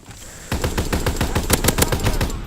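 A heavy machine gun in Call of Duty: World War II multiplayer fires a rapid, steady burst of about fifteen loud, evenly spaced shots. No voices are heard.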